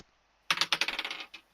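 Dice are tossed onto a table during a Dungeons & Dragons session, a sudden close burst of rapid rattling clatters that settles quickly, with one last small tick.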